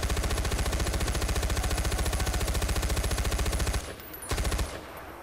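Rapid, steady automatic gunfire from a mounted turret gun in the video game Far Cry 4, loud and continuous for about four seconds before cutting off, then a brief final burst.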